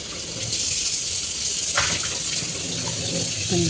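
A bowl washed under a running tap, a steady loud gush of water into a sink with light knocks of the bowl near the end.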